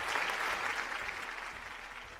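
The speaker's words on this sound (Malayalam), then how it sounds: "നല്ല കയ്യടി." A studio audience on a Malayalam TV game show breaks into steady applause, a dense wash of clapping that holds at an even level and fades slightly toward the end, with no voices over it.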